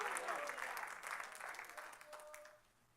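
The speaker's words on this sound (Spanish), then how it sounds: "¿Puede usted darle palmas al Señor en esta preciosa noche?" A church congregation claps praise to the Lord during an evening service, a steady wash of many hands that continues, then tapers away toward the close; faint voices sound beneath.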